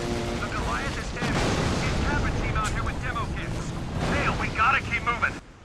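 Gunfire and explosions in the video game Resistance 2, dense bursts of shots and booms running continuously, with a voice talking over them before cutting off abruptly.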